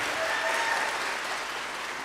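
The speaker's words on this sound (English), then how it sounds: "Can we give them one more round of applause?" An audience at a school choral Christmas concert applauds steadily, a dense even wash of clapping that holds at full strength throughout with no pauses.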